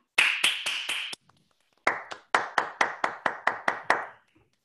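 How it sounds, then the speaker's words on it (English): Several audience members in an online meeting clap after a lecture, producing two bursts of sharp, close hand claps: a quick run of about five, a short pause, then a steadier run of roughly nine. "unmute yourself briefly and clap"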